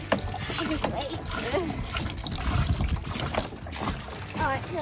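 A bucket at a water play area fills and tips, splashing water down in gurgling, splattering bursts, with someone talking excitedly over the water sounds.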